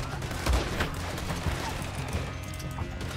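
Gunfire rattles in the Western video game Red Dead Redemption 2 during a shootout, a dense fusillade of overlapping shots and cracks, with some closer blasts over a busy, noisy background.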